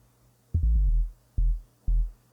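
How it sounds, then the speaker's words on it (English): A synthesized sine-wave bass with tape distortion plays a short bassline of three deep, rounded phrases, the first a quick run of stepped notes and the next two single notes, each sustained briefly before a clean stop. "The one's just going to have the sine wave playing underneath it"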